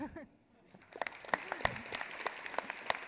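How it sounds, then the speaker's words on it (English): Scattered applause at a container security tech talk, starting after a short spoken line and building into uneven, moderately quiet claps of a small audience. "A round of applause for me."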